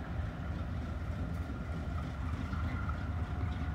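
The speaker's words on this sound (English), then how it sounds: "There's a lot of locomotives here in Sardinia right now" Several railroad locomotives, including B36-7 diesels, idling and rumbling at a rail wye in Sardinia, Ohio, a steady low engine drone that holds without break throughout, with no talk over it.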